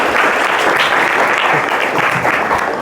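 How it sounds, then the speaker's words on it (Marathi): Loud, dense audience applause fills the room at an educational guidance event for village students, a steady wash of many hands clapping without pause throughout. "जोरदार टाळ्या वाजवायच्यासाठी."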